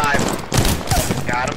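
Automatic weapon fire from an Apex Legends match, rapid bursts of shots with in-game effects, mixed with a player's voice talking over the action.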